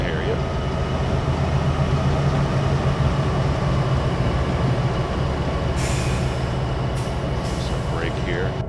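A BNSF SD75M freight train in Train Simulator 2016 rumbles steadily, then brief hissing air-brake bursts and faint wheel squeals break through near the end.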